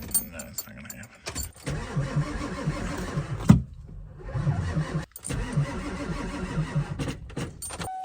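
Car engine cranking repeatedly while trying to start on a classic muscle car built from spare parts, in loud rhythmic bursts with brief pauses between attempts, voices talking over it.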